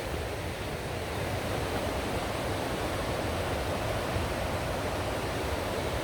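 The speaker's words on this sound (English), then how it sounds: "I just love walking and hearing that constant sound of the rushing water." Steady, broadband rushing of a mountain stream near Georgetown, Colorado, constant and close, with no voices and no breaks in the flow.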